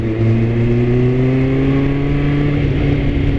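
A Ford Mustang engine revving up close, a loud steady drone with rising pitch as the revs climb over a few seconds.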